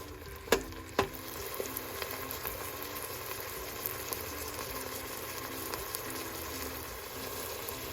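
Garlic and half an onion sauteing in a pot, a steady close sizzle throughout with two sharp utensil clicks near the start and light stirring scrapes.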